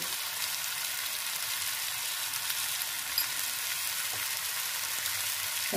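Onions sautéing in a pan with Kashmiri chili powder added give off a dense, continuous close-up sizzle, steady and unbroken, with no voices over it.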